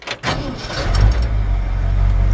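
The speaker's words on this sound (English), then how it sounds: "Starts with the touch of the key." A 1965 Ford F100 shortbed pickup starts with a turn of the key, a brief starter crank catching into a loud, rumbling idle that holds steady close by.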